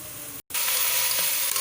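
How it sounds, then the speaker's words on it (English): Tomatoes sizzle loudly in a hot pan, a brief cut in the sound before a bright, steady frying hiss resumes, close and continuous. "after adding tomatoes, you have to keep on frying till it becomes totally soggy"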